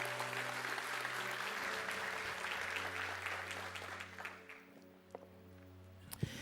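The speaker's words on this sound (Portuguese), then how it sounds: "Dê um aplauso bem forte ao Senhor." Congregation clapping for the Lord in a church service, a steady wash of applause under a sustained organ or keyboard chord, tapering off after about four seconds into soft lingering tones.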